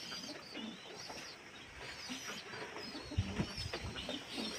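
Domestic pigeons at a home loft coo softly at close range, with low repeated calls and light fluttering against quiet background noise; no one speaks.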